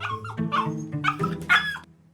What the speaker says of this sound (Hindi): यह कुत्ता जरूर हड्डी को अधिक पसंद करेगा।